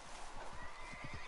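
A horse in the Red Dead Online game whinnies loudly over a broad, noisy background, with faint hoof clip-clops alongside.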